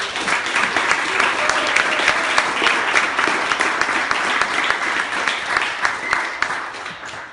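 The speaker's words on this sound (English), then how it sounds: "So if you could please give them a little bit of applause." Sustained applause from the audience at a startup demo day presentation event, a full, even rush of many hands clapping that carries on for several seconds and tapers slightly at the end.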